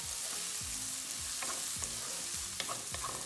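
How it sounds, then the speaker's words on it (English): Green chilies frying in a pan over high flame, a dense continuous sizzle with repeated stirring scrapes and light utensil taps, close and steady. "And the green chilies, and then you fry them well. Make sure you cook it on high flame."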